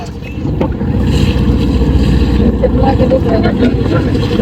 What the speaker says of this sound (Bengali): আর ট্রলার চলে এসেছে